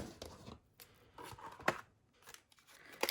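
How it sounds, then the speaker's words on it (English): Scissors cut black paper frames for a craft project with short, crisp snips and crunches, close up and somewhat irregular, with brief pauses between cuts. "I'm going to cut a couple of black"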